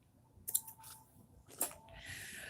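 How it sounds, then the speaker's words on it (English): Scissors snip something for a witch bottle spell in two crisp cuts about a second apart, close and quiet, followed by a soft rustle. "All right, so I'm just going to take this and cut it"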